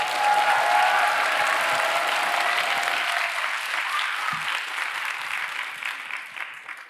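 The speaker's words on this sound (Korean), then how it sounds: "우리 박수와 환호로 모시도록 하겠습니다" A large church congregation on Remnant Day greets Pastor Ryu Kwang-su with loud, sustained applause and some cheering, strong at first and then slowly thinning and fading out.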